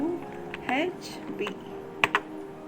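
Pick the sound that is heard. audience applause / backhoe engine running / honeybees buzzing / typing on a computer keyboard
typing on a computer keyboard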